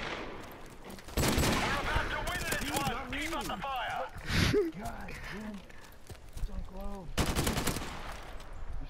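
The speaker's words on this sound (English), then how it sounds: "the Deagle, the most powerful pistol in the world" Desert Eagle pistol shots and automatic gunfire ring out in Call of Duty: Modern Warfare Remastered, with sharp bursts and scattered reports across nine seconds under excited shouting and talk from players.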